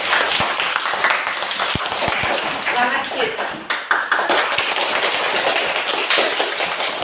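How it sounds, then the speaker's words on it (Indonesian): Children in a primary school classroom clap, with scattered sharp claps and taps over a noisy room while a teacher's voice talks across much of it. "Tepuk tangan untuk kita semua."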